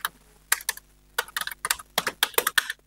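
Python code being typed on a computer keyboard: clusters of quick, crisp key clicks in irregular bursts, close and fairly loud, with short pauses between words and no voice.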